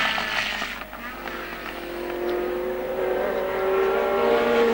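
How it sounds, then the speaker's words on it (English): A 1970 Formula One race car at the British Grand Prix holds a steady, loud engine drone on its last lap, rising slightly in pitch as it runs on without a break. "And there's Jack Brabham coming up to start his last lap"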